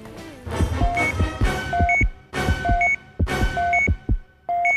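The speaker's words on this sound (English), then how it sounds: "Hilary, this is the lie detector." A television game-show lie detector machine, just switched on, gives off a repeating pattern of thumping heartbeat-like pulses paired with short electronic beeps, in loud, regular cycles with brief pauses between them.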